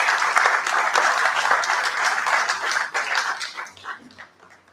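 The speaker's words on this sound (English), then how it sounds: "Please give yourselves a round of applause." Dense, sustained applause from an audience at an agricultural research review and planning meeting, loud and close, tapering off over the last second.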